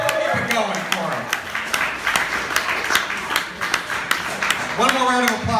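An audience applauds a comedy show for comedian Ron Jeremy, a steady patter of claps through the room, while a host's voice talks over the clapping at the start and near the end.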